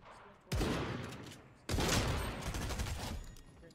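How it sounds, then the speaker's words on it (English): Two sudden bursts of gunfire from an SMG and shotgun in Fortnite Chapter 3, each slamming in loud and close, then trailing into a rattling decay. "We're gonna shoot people in the face for fun."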